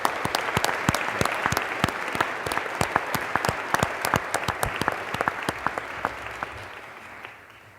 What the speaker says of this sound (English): Please join me in a round of applause for a great leader.